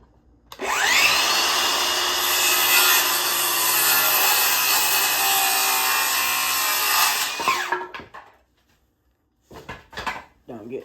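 A wooden board marked at 20 1/4 inches is cut with a saw in one long, loud, steady pass of about seven seconds, then a few short scrapes and knocks as the cut piece is handled.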